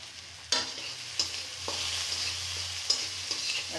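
Soya chunks seasoned with salt and turmeric fry in hot oil, giving a steady close sizzle broken by a few sharp clacks of a spatula stirring the pan.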